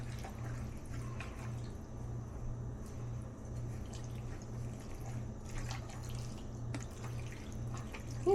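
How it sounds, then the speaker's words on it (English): Water drips and trickles steadily out of freshly rinsed food resting in a small basket, a soft continuous patter close by with no talking. "just let it sit there so the water can drip out"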